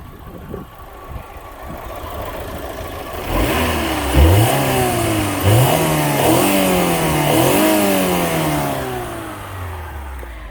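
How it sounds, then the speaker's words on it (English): An Alfa Romeo GTV engine revs up repeatedly, rising and falling in several loud bursts after a few seconds of quieter idling, close by. "we'll just rev it from the inside."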